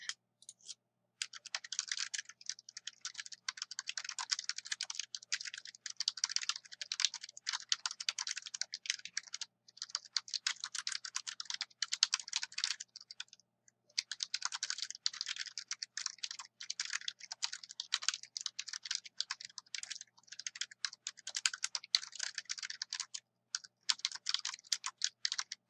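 Typing on a computer keyboard to enter slide notes, a long run of quick, light key clicks in bursts with brief pauses, close and fairly quiet.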